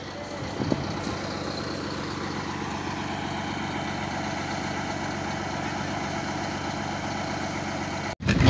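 Heavy trucks sit idling along the Transamazônica highway in Brazil, a steady low diesel rumble that drones on continuously with a faint bump near the start, no voices over it.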